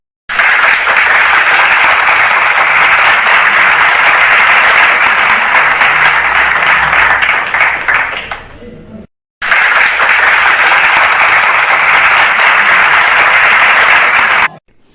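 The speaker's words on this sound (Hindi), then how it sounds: "तो इनका परिचय के बाद आपकी तालियां बजना चाहिए" Audience at a community matchmaking introduction gathering in Indore applauds in two loud, dense bursts of clapping, the first fading briefly before a second equally full round resumes, close and sustained.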